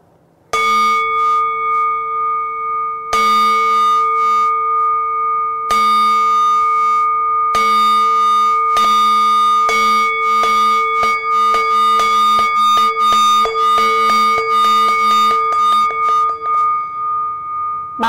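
Buddhist temple bell struck in a sequence, the first strikes widely spaced with long ringing sustain, then blows coming faster and closer together in an accelerating roll, each strike loud and near, with no talking.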